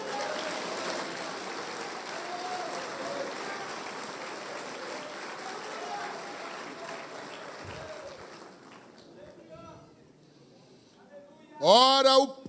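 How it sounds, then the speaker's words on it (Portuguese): A church congregation applauds in a steady, dense wash of clapping that thins and fades out, followed by a brief burst of a loud voice at the very end. "Vocês podem aplaudir a Jesus."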